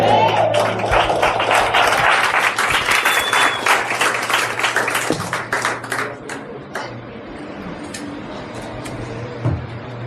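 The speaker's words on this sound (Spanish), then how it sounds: "Den un aplauso, Señor." Congregation applause at an evangelical Spanish-language church service, a dense burst of clapping that is loudest early and thins out toward the end, with some voices mixed in.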